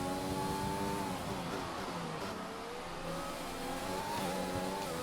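A Formula 1 car in F1 2020 accelerates on track, its high engine whine rising and falling through gear changes, loud and steady with no voices.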